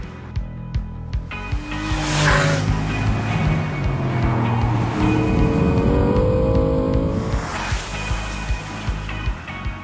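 A performance car roars past on the Virginia International Raceway track, its engine revving and droning loudly, with no one talking.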